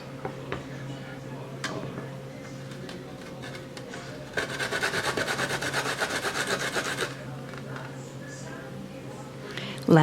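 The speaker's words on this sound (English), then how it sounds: "Once the garlic cloves are grated" Garlic cloves rubbed against a metal grater, a rhythmic rasping scrape that swells into a fast, steady run of strokes mid-way, with a speaking voice and a low steady hum in the background.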